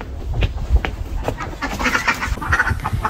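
A duck at a rural Chinese home quacks repeatedly in close, fairly loud bursts, mixed with household background noise.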